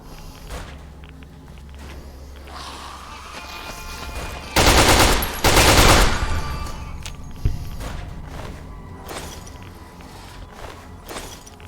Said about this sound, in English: Does this submachine gun still suck? Yes, but it sucks a little less.